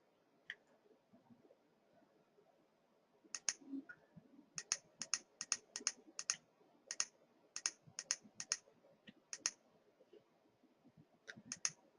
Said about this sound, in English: So you saw me click through those calendar steps